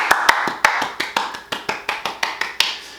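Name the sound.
hand clapping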